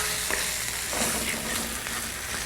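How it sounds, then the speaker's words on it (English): A coconut sauce simmering in a pan while being gently stirred, giving a dense, fairly loud bubbling sizzle with a few faint scraping strokes, close by and with no voice. "Now gently stir your delicious brew here, which is simmered down a little bit."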